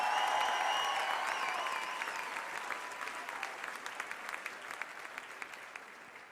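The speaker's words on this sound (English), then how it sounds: "Give him a big round of applause." An audience at an Army birthday event breaks into strong, sustained applause that stays dense and continuous, thinning into scattered individual claps as it fades, with a brief voice near the start.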